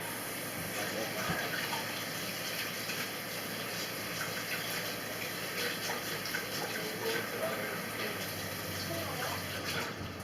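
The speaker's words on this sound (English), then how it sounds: "I gotta wash my hands." Water running from a kitchen tap during hand washing, a steady broad splashing hiss at moderate volume lasting throughout, with faint background sounds.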